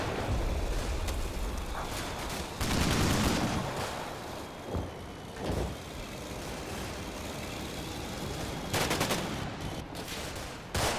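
Bursts of gunfire ring out in the war game Combat Mission: Black Sea as infantry and BTR armoured vehicles advance on a village, loud volleys and rattling fire over a continuous rumbling engine-like background, with no voices.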